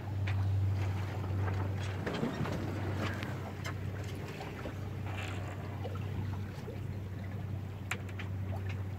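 A boat sailing on the open sea off Callao, about 6 km from the coast, with a steady low engine drone under continuous wind and water wash, close and fairly loud throughout.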